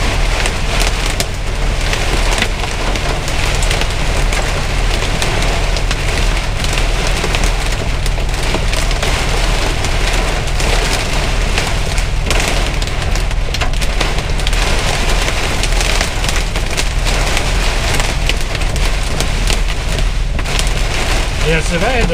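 Hail pounds a vehicle during an Oklahoma storm as a loud, dense, unbroken clatter and roar of impacts all around, with voices talking under the din.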